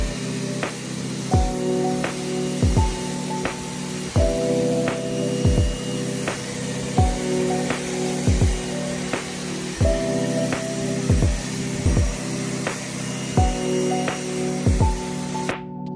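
Steady water spray rinses snow foam off a car's exterior and tyres, a continuous hiss running throughout with musical notes playing over it.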